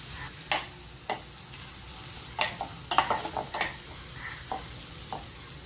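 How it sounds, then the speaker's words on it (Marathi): Onion and grated ginger sauté in a pan with a continuous sizzle, punctuated by sharp metal scrapes and taps as the mixture is stirred, heard up close with no voices. "त्याच्यात कांदा टाकते मी कांदा थोडा त्याचा कच्चाटपणा जाईपर्यंतच आपल्याला परतायचं आहे"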